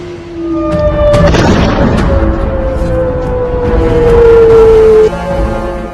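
Ballistic missile strike on a military base in Jordan: a loud booming blast with crackling debris, while a siren-like wail holds and slowly bends in pitch across the scene.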